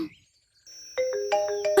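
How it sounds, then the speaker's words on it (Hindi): A short electronic melody of bright, sustained tones rings out after a brief quiet, growing fuller with each phrase, like a phone ringing nearby. "किसका फोन आ रहा है?"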